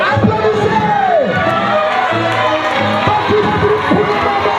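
Crowd cheering and shouting at a student sports olympiad in Ziguinchor, a continuous loud, lively roar of voices with whoops rising through it, close and busy throughout.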